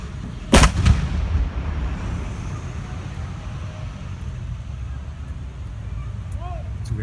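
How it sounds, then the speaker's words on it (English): A single loud ceremonial cannon boom cracks out near the start at a Remembrance Day event, then fades into a steady outdoor rumble of wind and distant noise. "she is going to fire this round, so that's Christina down at the cannon right now"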